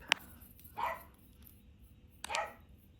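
A dog barks twice, short and moderately distant, with a sharp click just before, in an otherwise quiet indoor space.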